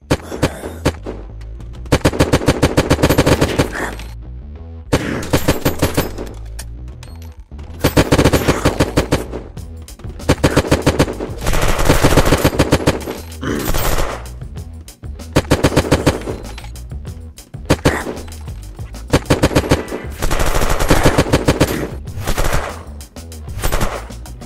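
Automatic gunfire in the survival video game Unturned comes as loud, sustained rapid-fire bursts, several seconds long and separated by short pauses.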